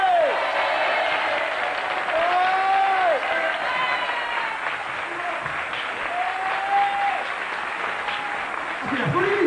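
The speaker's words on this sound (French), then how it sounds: "sous vos applaudissements" Studio audience on a 1993 French lottery game show bursts into steady, lively applause welcoming a winner, with the host's voice sounding over the clapping throughout.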